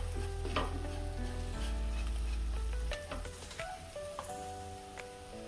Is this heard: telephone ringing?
no